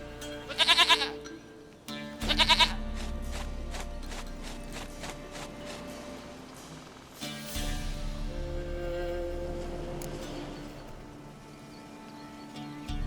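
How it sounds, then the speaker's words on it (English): Goat bleats in The Witcher 3: Wild Hunt, two loud, short bleats early on, then mechanical ratcheting and gear-like clicks over a low ambient drone. "Goat of mine, dearest, sweetest goat."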